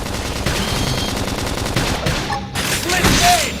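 Rapid bursts of gunfire in the Xenoblade Chronicles X video game rattle continuously through a busy battle mix, with sweeping effects and a brief dropout near the end.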